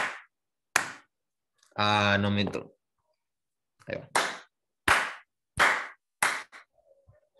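Hand claps in a quiet lab while a small device measures the interval between them, several sharp isolated claps with silent gaps, plus brief speech in the middle.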